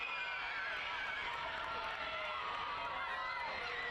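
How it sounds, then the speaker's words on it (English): A stadium crowd at an MLS NEXT PRO soccer match between New England Revolution II and FC Cincinnati 2 roars in a sustained, dense wash of cheering after a goal, heard at a distance with a commentator talking over it. "Sends the crowd into a frenzy here that have been here since 11 a.m."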